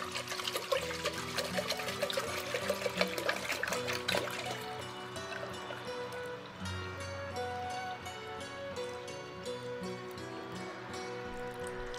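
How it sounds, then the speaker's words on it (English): Water pours from a 4-liter jug into a metal cauldron decorated with skulls and hardware, a steady close splashing and trickling that changes pitch as the vessel fills, ending with a quieter dribble. "we've got a 4-liter jug of water here. We're just gonna pour it in and just see what our capacity is."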